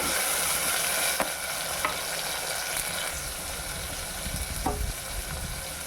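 Chopped onion and tomato pieces frying in a pan give off a steady, dense hiss and crackle, close and continuous, with a few faint stirring knocks and no voices.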